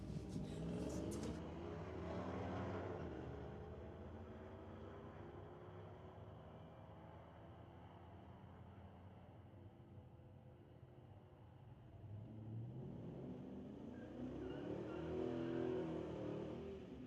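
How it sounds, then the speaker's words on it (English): A black Chevy pickup truck pulls away from the start line at an NHRA Jr Street drag race, its engine roaring steadily and loudly, then fading as it heads down the track before another vehicle's rumble rises near the end. "Behind the wheel of the black Chevy pickup truck, left side of the racetrack."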